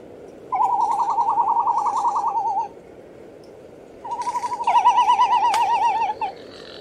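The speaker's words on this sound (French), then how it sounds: "Ça, c'est le cri d'une frégate." Two bursts of wavering, warbling frigatebird calls, a long trilling phrase then a second, busier one with overlapping voices, fairly close and clear over quiet background.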